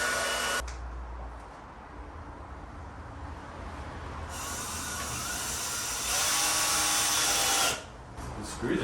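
A power drill drives self-tapping screws into the front lip of a Honda Accord Euro, whining in bursts that rise and cut off, with quieter handling noise between them.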